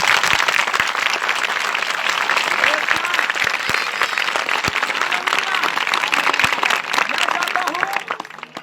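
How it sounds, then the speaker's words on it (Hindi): A church congregation applauds during a sermon, with dense, continuous clapping from a crowd filling the whole stretch before it tapers off at the end. "आपकी तालियां बजाएंगी कि आप जाग रहे हैं?"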